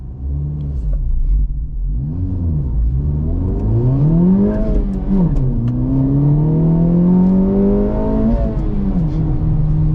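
A 2024 Acura Integra Type S or 2023 Honda Civic Type R launches hard, its engine note climbing steadily through the revs, briefly dipping at a shift, then rising again, loud and close throughout.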